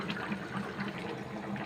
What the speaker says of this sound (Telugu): కొన్ని వాటర్ వేసి మంచిగా ఉడికించుకుందాము.